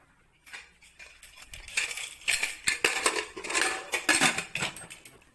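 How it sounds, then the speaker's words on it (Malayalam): A pressure cooker lid is fitted and shut over beef masala: a series of close metallic clinks and knocks, some sharp and ringing, in an otherwise quiet room. "നമുക്ക് കുക്കർ അടച്ചു വെക്കാം."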